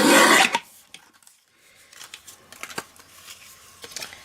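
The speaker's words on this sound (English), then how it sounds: "Yeah, I'll just cut it here." Card stock for a card-making kit being cut, starting with a loud, brief rasping slice, followed by quieter scattered snips, rustles and handling of the paper.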